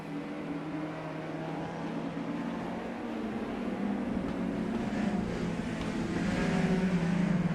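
Racing car engines in a DTM '92 sim race at the Hungaroring, BMW and Mercedes touring cars: a continuous droning engine note with shifting pitch that grows slightly louder, steady and without talk.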